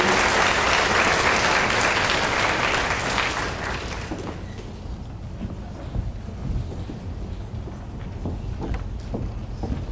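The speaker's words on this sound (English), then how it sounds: "Let's give them another round of applause." Loud sustained applause from an audience at a high school senior awards ceremony, full and dense at first, then thinning into scattered claps over its second half.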